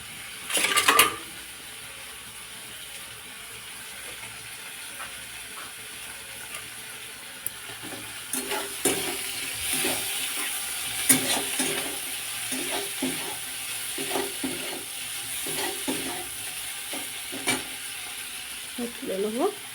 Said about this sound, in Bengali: ভাত হচ্ছে এদিকে এবার মাখিয়ে নেবো।